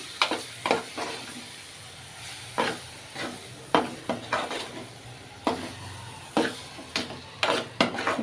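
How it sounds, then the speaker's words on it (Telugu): Lentils and coconut curry being stirred in a pan over a soft background sizzle, with a spoon scraping and clinking in irregular bursts, close and moderately quiet, no voices. "ఈ పప్పు కూడా దీనిలో వేసేసుకున్నాం కదండి ఇట్లా మంచిగా కలిపేసుకోవాలి"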